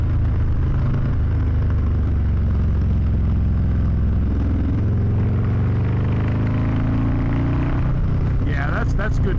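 Harley-Davidson Low Rider ST motorcycle riding through a favorite turn, its loud, close engine droning steadily, easing off then pulling again as rising harmonic sweeps show it accelerating out of the bend, with constant wind rumble.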